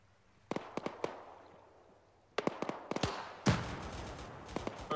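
Explosives land in the ArmA 3 video game as scattered sharp blasts, single cracks and quick clusters, followed by a heavier, rumbling impact near the end, heard over a faint background.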